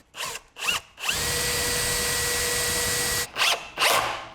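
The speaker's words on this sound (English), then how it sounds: "I'm gonna drill pilot holes." A power drill bores pilot holes in wood: two short bursts, then a long steady whine of several seconds, then two more short bursts, close and clear with no talk.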